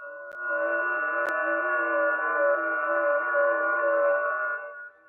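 A steady warbling tonal digital-mode data signal on shortwave radio, several pitched tones switching rapidly over a radio hiss, moderately loud and continuous for a few seconds.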